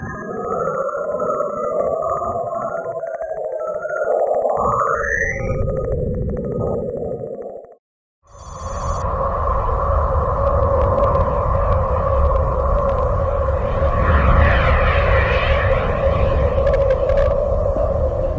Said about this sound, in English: this is another sample of ghostly radio emissions from the planet